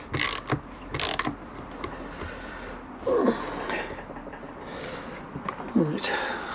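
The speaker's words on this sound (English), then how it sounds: "we might go and give it a quick whirl on the old turbo" A Wahoo KickR V2 turbo trainer spins, giving a mechanical, ratcheting whir in repeated loud bursts separated by quieter gaps, with some breathy noises mixed in.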